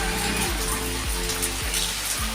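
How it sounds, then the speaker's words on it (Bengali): Steady, dense hiss of heavy cyclone rain pouring down without a break, loud and close, with a faint low rhythmic thumping underneath. "এই যে কেমন বৃষ্টি হচ্ছে দেখো অনেক জোরে জোরে বৃষ্টি পড়ছে"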